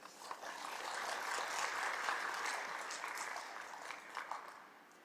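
Audience applause at the close of a media forum, a steady wash of clapping at moderate level with slight peaks, heard somewhat distant and without talk over it.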